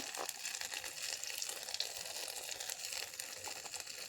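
Chili paste with salt and turmeric frying in hot oil, a steady close crackling sizzle with fine spitting pops running throughout.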